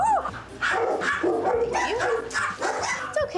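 An excited dog gives a quick run of close, loud barks and yips with whimpery tones mixed in, in short bursts over a few seconds.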